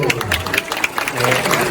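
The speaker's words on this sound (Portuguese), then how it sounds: "Mandei uma salva de palmas aí." Applause from the audience at a book launch for a doll-themed horror novel, scattered hand claps mixed with crowd murmur and talking voices over the top, moderately loud and brief.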